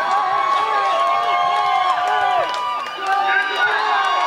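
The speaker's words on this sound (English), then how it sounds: "The crowd is going nuts." Spectators cheering and whooping continuously at a gravity race in Great Barrington, a loud, steady crowd roar with a commentator's voice running over it throughout.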